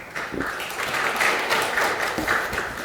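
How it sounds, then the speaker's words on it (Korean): An indoor audience at a forum applauds a speaker being introduced, a dense burst of many hands clapping at steady loudness throughout. "힘찬 박수 부탁드리고요."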